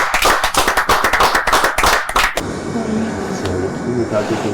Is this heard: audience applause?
yes